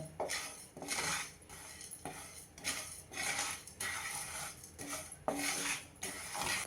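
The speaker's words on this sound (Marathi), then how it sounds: "आपल्याला हे सगळे जिन्नस हलकेसे भाजायचे आहेत" Black pepper, fennel and cumin dry roast in a pan, stirred in rhythmic bursts of scraping and rattling against the metal, close and fairly quiet, with no talk.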